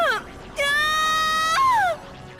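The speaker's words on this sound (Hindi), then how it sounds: "चीख सुनाई दी।" A woman screams in a Hindi horror story, a long, loud, sustained high-pitched shriek with a rising start and a falling, wavering tail, preceded by a brief shorter cry.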